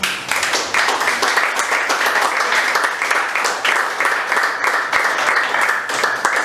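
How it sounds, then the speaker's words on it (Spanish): A church congregation applauding during a sermon, a dense sustained round of clapping from many hands that carries on evenly throughout, fairly loud and close, with a few voices mixed in. "Dile un aplauso al Señor."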